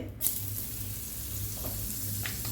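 Butter sizzles faintly and steadily in a hot pan before eggs go in for bread toast, with a soft, even hiss and a few small pops.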